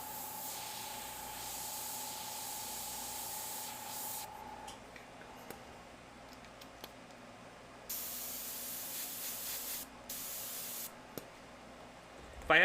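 An airbrush spraying paint onto a figure gives a steady, close hiss in several bursts of a few seconds each, separated by short pauses with faint clicks.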